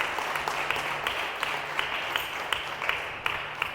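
A church congregation claps together in a steady, rhythmic beat, a dense wash of hands heard from within the room.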